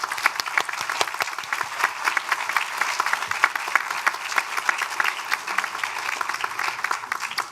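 Graduates at a spring college commencement clap for their families, a sustained room-filling round of applause from a large crowd that holds steady without a voice over it.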